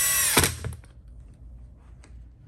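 A power drill drives screws into a Traxxas Bigfoot XMaxx monster truck, one short high whirring burst that stops abruptly, followed by faint handling clatter and a small click.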